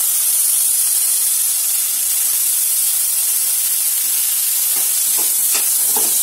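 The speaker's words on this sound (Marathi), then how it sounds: "आता हे व्यवस्थित झाले तर यात आपण आपला बारीक चिरलेला टोमॅटो टाकून घेऊया।" Chopped tomato sizzles and hisses in a pan while paneer bhurji cooks, a steady, loud frying hiss with a few soft stirring taps near the end.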